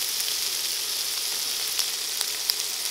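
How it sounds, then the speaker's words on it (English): A sausage sizzles in a hot pan for Thai spicy noodles: a steady, bright hiss of frying with a few small pops and crackles, close and even throughout, with no voices. "I'm gonna go ahead and throw a sausage in right away."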